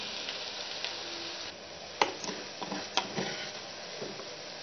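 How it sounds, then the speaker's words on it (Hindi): Onions frying in a pan as tomatoes go in: a steady low sizzle, with a couple of sharp clatters and rustling bursts partway through. No voices. "हल्का सा बस रेड कलर आए तो हम इसमें डालेंगे टमाटर।"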